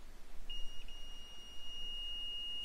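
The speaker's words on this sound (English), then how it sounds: "hear a beep." Two multimeter probes touched together set off a steady electronic continuity beep that starts after a short pause and holds its tone to the end, loud and clean over a faint background hum.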